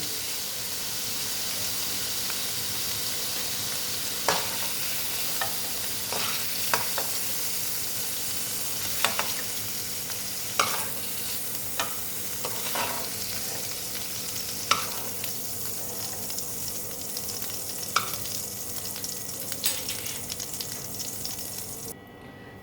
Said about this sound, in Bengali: দেখো পনিরগুলো ভাজা হয়ে গেছে আর বেশি ভাজবো না তাহলে শক্ত হয়ে যাবে এবার আমি এগুলোকে তুলে নিচ্ছি